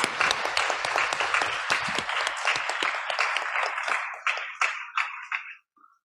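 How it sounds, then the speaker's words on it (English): Audience applause at an indigenous salmon peoples gathering, a room of hands clapping steadily, then thinning into scattered claps before fading to silence. "Please give them a round of applause."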